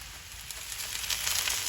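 Onions frying in a cast iron skillet at a deer camp give off a faint, steady sizzle and light crackle, quiet and continuous with no voices.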